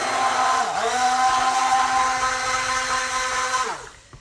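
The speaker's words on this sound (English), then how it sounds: "So this stick mixer that I have is really nothing special." A cheap stick mixer whirs steadily through cold process soap batter. The close motor whine dips in pitch briefly, then winds down at the end.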